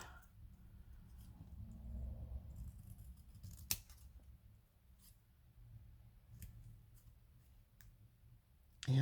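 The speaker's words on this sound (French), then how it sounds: "Je sais vraiment pas couper droit avec des ciseaux" Scissors snip through paper in quiet, scattered cuts, with soft clicks and rustles at close range and a sharper snap near the end, in an otherwise hushed room.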